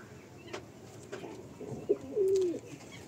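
Female pigeons coo softly at close range, with one low throaty coo rising briefly above faint background noise.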